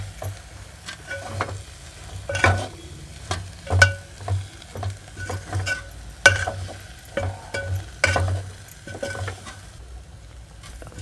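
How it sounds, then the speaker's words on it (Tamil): Chili powder being sautéed and stirred in oil with brinjal for a chickpea and brinjal tamarind curry, repeated rhythmic ladle scrapes and knocks against the pan over a light sizzle, close up. "இந்த மிளகாத்தூளை போட்டு இந்த எண்ணெயிலே நல்லா வதக்கி எடுப்போம்"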